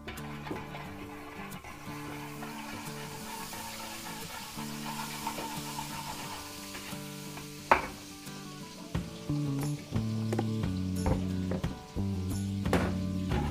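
Onion and garlic sauté in hot oil and margarine for a Filipino fiesta dish, a steady sizzle broken by a sharp clank and several stirring knocks near the end.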